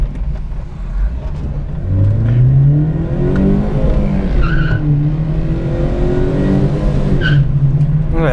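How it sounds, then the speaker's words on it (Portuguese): A Chevrolet Celta 1.0 engine revs hard as tires squeal and screech loudly in third gear, the pitch climbing through a sustained skid close by. "o carro canta de terceira marcha"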